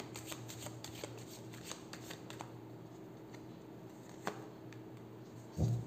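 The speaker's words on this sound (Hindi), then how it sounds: "ब्लॉकेजेस के लिए हम 3 कार्ड ले रहे हैं" Tarot cards shuffled by hand close up, a steady soft riffling and flicking of the cards that runs throughout, with a faint background hum and a brief voice at the very end.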